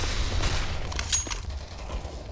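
A flashbang grenade detonating in Counter-Strike during a Blast Major Paris 2023 match gives a sharp bright burst near the middle, set among other broadband in-game bursts and steady low background rumble.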